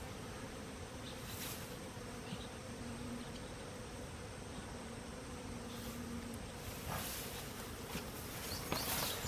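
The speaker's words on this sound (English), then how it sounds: "I'm liking the number of bees." A swarm of bees buzzes steadily around a hive knocked over by fighting bulls, a constant dense drone close by with a few louder passes.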